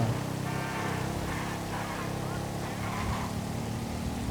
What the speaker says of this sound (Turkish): Bir yandan yola bakıp bir yandan şu motoru kullanmak da zor ha.